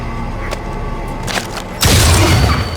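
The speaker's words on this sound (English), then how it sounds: "the instant he looks away from Bane, Bane takes the opportunity to draw and fire" Cad Bane draws and fires his blaster in a desert shootout: a few sharp cracks and a thump, then a loud, booming burst of fire in the last second.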